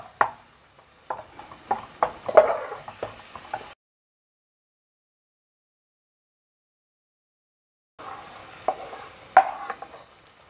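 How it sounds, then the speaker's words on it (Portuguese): Butter is stirred as it melts in a pan, heard as soft scraping and tapping strokes over a gentle sizzle, interrupted by a few seconds of total silence before the stirring resumes. "Vamos mexer até derreter bem a manteiga."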